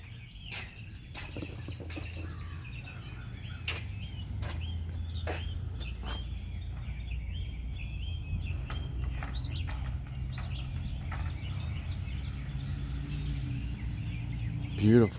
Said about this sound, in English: listen to these birds since it cleared up and got sunny out